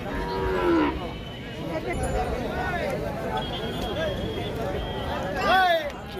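Cows moo at several moments amid a busy outdoor crowd at the Saturday cattle market in Pebbair, with people talking throughout and a few calls standing out loud and near.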